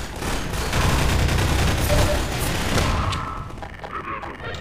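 Sustained gunfire from a weapon in Half-Life 2 fills the scene, with dense rapid bursts and booms that ease off toward the end.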